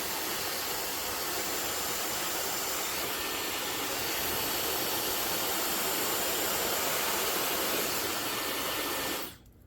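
A handheld blow dryer runs continuously at close range while hair is stretched and dried, a dense steady roar that holds level and then cuts off abruptly at the end.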